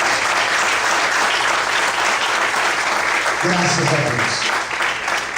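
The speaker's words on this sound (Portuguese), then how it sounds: "Vamos aplaudir bem forte, Senhor." A church congregation applauds loudly and steadily throughout, with a voice speaking briefly over the clapping near the end.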